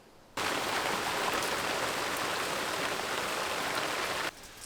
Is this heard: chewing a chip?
no